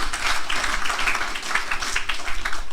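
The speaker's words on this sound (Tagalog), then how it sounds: "Isang malakas na palakpak sa Panginoon" A church congregation gives sustained applause for the Lord during a sermon, a dense, even wash of many hands clapping throughout, moderately loud with no clear individual claps.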